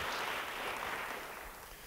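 Church congregation applauding, a dense wash of clapping that is loud at first and fades slightly over a couple of seconds, with no voices over it.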